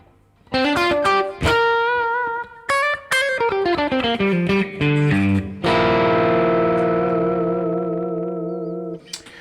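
Electric guitar with overdrive and delay playing a melodic lead line of sustained bends and picked notes, repeats trailing behind each phrase, ending in a long held note that slowly fades.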